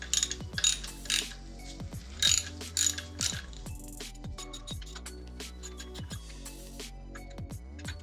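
Close ratchet clicks from a 10mm extended socket working engine bolts loose during an S54 engine teardown, in repeated bursts of rapid pawl ticking with short gaps, some metallic clinks mixed in.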